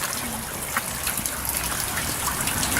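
Water trickles and gushes steadily from a leak inside a manhole, a continuous wet rushing that holds a constant level throughout with no speech.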